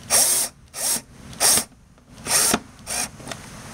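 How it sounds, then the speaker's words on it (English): A power drill drives sheet metal screws into pre-drilled holes in a stringer for a vertical wind turbine wing, giving five short, loud bursts of whirring with brief pauses between them, close up and with no talk. "pre-drilled small holes into the stringer there, and then just drive the screw in"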